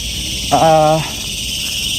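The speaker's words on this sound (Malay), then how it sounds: "Kamu boleh dengar bunyi cengkerik yang bising tuh." Crickets chirp in a forest in the morning, a steady high-pitched buzzing drone running throughout, with a brief voice-like sound partway through.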